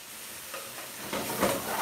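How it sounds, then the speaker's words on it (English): Spices frying in a pan with pre-cooked onions and peppers, a soft continuous sizzle that swells slightly toward the end, with no voices. "So again, guys, just putting the spices in."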